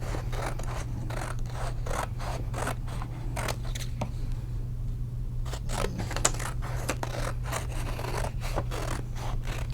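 Scissors snip through paper while animal mask pieces are cut for a craft, a steady rhythm of close, crisp cuts and rustles over a constant low hum.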